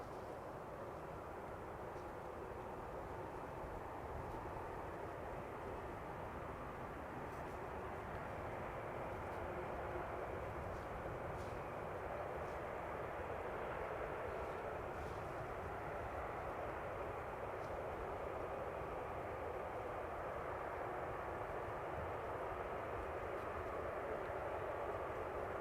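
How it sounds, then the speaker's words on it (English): An airplane taxis off the runway after landing at Amsterdam Schiphol Airport. Its engines hold a steady, even roar at some distance for the whole stretch, with no voices. "taxiing off the runway."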